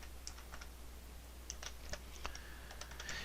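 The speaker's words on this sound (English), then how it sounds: "And you want to type in exactly what it is." Light, quick keystrokes tap on a computer keyboard in irregular bursts, quiet and close over a low steady hum, with no voices.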